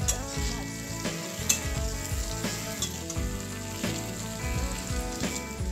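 Cumin seeds crackle and sizzle in hot oil, a dense close-up frying hiss layered with rapid small pops and a few stirring clinks, steady throughout without speech.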